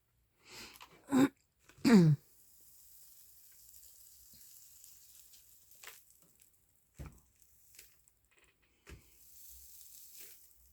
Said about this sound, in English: I don't know why it's sizzling.